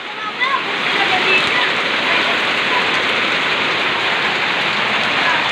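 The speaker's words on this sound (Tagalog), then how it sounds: "Ang lakas ng ulan, no?" Heavy rain pours down in a loud, steady, dense hiss that stays constant throughout, with no pauses.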